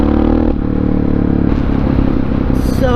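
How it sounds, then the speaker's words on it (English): Honda XR650R supermoto motorcycle rolling over a gravel-strewn road corner, its steady engine drone up close with crunchy clatter and scraping from loose stones under the tires. "this bike just going down the road is pretty intense. The way it just makes power."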